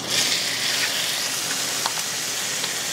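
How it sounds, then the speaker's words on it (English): Ribeye steaks searing in hot olive oil in a cast iron skillet make a loud, steady, close hiss with a few faint pops and crackles, and no voice over it. "put them in our cast iron skillet. We're going to sear that on both sides 3 to 4 minutes"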